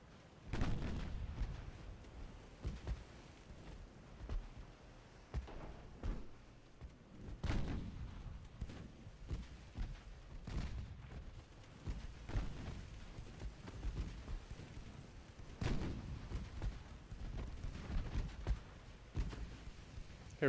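Naval gunfire from warships in the video game Ultimate Admiral: Dreadnoughts, with deep booming shots repeating at irregular intervals over about twenty seconds, some heavy and close, others softer and more distant.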